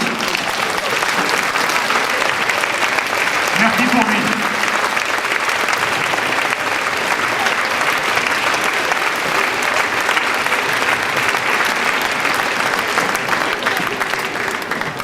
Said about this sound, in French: Je vous demanderai de vous lever pour applaudir notre fondateur